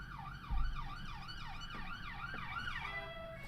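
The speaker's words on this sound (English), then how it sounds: "There's 2 police cars gone past now." Wailing police car sirens sweep up and down outside, passing at a moderate distance with a rising and falling yelp pattern, over low traffic rumble and a brief thump, with no one talking.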